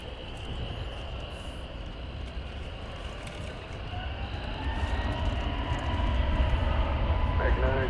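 An American Airlines Airbus A321neo takes off from DFW runway 18 left, its engine roar building steadily and growing louder toward the end, with a distant rumbling, broadband wash.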